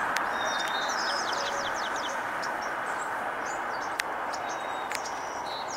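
Sparrows chirp in a park: brief high tweets and short trills come and go over a steady broadband hiss of background noise, fairly faint and distant, with no voices.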